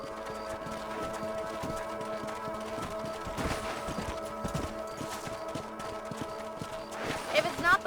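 Horses gallop in the Western video game Red Dead Redemption, their hoofbeats a steady rhythmic clip-clop under game music and dialogue, with a louder flurry near the end.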